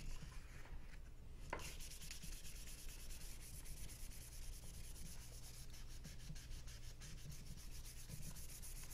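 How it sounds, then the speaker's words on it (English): A freshly etched knife blade is polished by hand with 500 grit emery cloth, a close, steady scratchy rubbing that continues without pause across the whole stretch. "I just use a number 500 grit emery cloth just to give it a quick polish."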